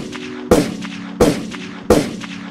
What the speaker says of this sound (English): a TW member approaches Melly and let loose